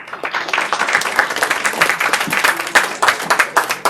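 An audience at a cyber security awareness day technical session claps steadily for several seconds, a dense, continuous round of applause close to the microphone.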